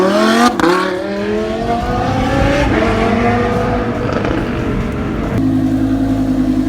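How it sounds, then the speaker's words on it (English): A Lamborghini Huracan with an FI Exhaust revving loud and close, its engine pitch rising and falling through downshifts, with a sharp crackle before it settles into a steady high rev. "those downshifts are insane"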